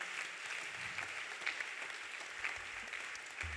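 A church congregation applauding the Lord, a steady wash of clapping from many hands filling the room, moderately distant and sustained throughout with no clear talk.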